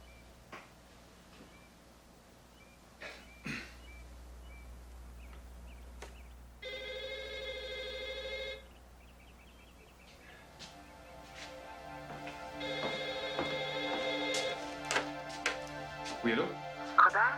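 A telephone rings in a quiet room, sounding its bell twice in bursts a few seconds apart; a voice answers over faint background sounds.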